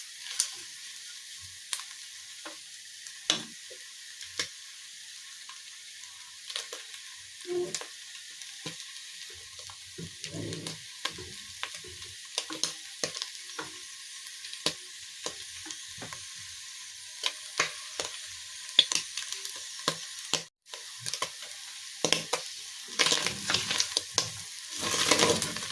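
Matumbo (tripe) wet-frying in a pan while being stirred and scraped along the bottom: a continuous close sizzle broken by frequent sharp scraping and clicking strokes of the spoon, with no talking.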